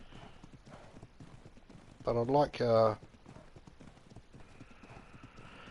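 Horses (Equus) in the survival game Ark on the Ragnarok map clip-clop with a steady, fairly quiet patter of hooves, while someone talks over them.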